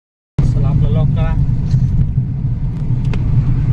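A low, steady engine and road rumble fills the interior of a car on a road trip toward Dandeli, starting abruptly and holding constant, while people talk inside the cabin.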